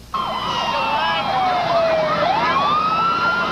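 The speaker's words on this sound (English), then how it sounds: "you could hear the sirens and all coming" Several fire department emergency sirens wail and overlap, one sweeping down in pitch then rising again, loud and continuous against a rumbling traffic background.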